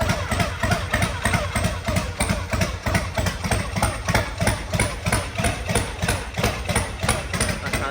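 A small engine starts and runs loud and close, with a drive belt, beating out a steady rapid mechanical rhythm and hammering clatter through the whole stretch.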